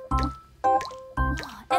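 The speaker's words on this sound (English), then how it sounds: "The water's splashing down even harder now!" Water drips and splashes into a saucepan in four distinct, evenly spaced plops, each a close, clear liquid drop with a ringing tone that fades before the next.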